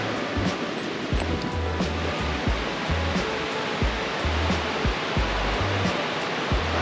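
Steady rushing water roar of Frenchman's Hole waterfall in Newry, Maine: a broad constant wash of falling water with some low rumbling and intermittent thumps, no voices.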